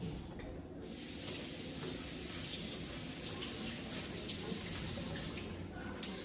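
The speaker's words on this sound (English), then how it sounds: "So we're gonna rinse some lettuce off." Lettuce being rinsed under a running kitchen tap, a steady close hiss of flowing water that continues unbroken throughout with no talking.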